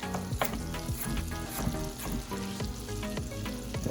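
Garlic sautéing in butter in a pan for a guacamole shrimp pizza, a steady close sizzle with bubbling crackles and soft stirring scrapes throughout.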